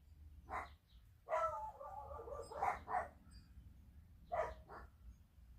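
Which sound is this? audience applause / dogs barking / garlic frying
dogs barking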